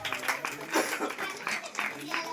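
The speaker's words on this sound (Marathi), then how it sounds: "टाळ्या वाजवा." Audience clapping at a prize-giving ceremony for a local friends' association, a steady patter of hands running throughout the short stretch, with voices talking over it.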